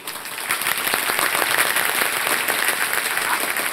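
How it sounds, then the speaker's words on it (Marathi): An audience in a hall at a group competition prize-giving applauds loudly, dense steady clapping from many hands filling the whole stretch, with a voice faintly under it. "जोरदार टाळ्या त्यांच्यासाठी"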